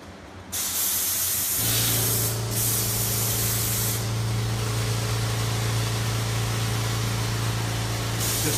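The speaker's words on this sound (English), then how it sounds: "Just checking the spray pattern." A steady, loud hiss of a paint sprayer spraying enamel continuously on a job site, with brief breaks in the spray and a low motor hum underneath.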